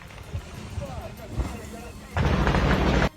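A grenade explodes in Russia-Ukraine war footage: a loud, rumbling blast lasting about a second follows a noisy, muffled stretch of rustling and faint thumps.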